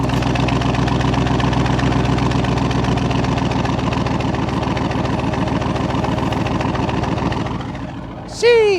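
A 2022 Dodge Charger Scat Pack Widebody with a mid muffler delete idles on a hot day, giving a loud, steady, deep burbling rumble up close that continues unbroken until it briefly shifts near the end.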